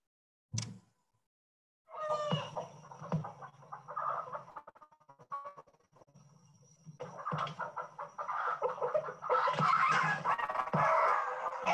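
Backyard chickens clucking and squawking in alarm at a large snake, a busy cluster of agitated calls that thins briefly then builds into loud, continuous cackling near the end.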